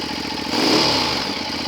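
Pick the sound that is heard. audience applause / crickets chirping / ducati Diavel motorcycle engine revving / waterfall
ducati Diavel motorcycle engine revving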